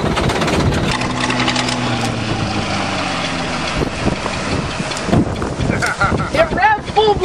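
A running bulldozer crushing a Buick Regal and an Oldsmobile on a farm, its engine droning loudly throughout with metallic creaks and crunches, revving harder toward the end while people talk nearby.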